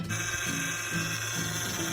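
A car's power steering gives off a strained, whining groan with a grinding rub underneath, rising and falling in short waves over two seconds, moderately loud and without voices.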